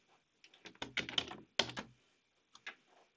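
Letters CMD typed on a computer keyboard at a Windows search prompt: a quick cluster of close, crisp key clicks, then a single later keypress, with no talk.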